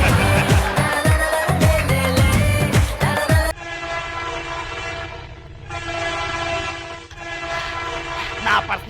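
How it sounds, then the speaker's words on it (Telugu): A train sound effect in a stage comedy skit, a loud horn blast and rumbling clatter of rolling wagons, then a long sustained whistle-like tone over steady track noise. "ఈ ట్రైన్ ఆగేటట్లేదు"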